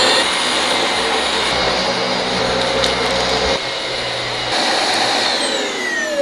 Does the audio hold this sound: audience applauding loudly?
no